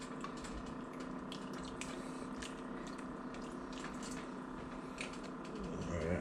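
Tap water runs steadily into a kitchen sink while canned black beans are rinsed for chicken tortilla soup, a constant close splashing hiss with faint clinks.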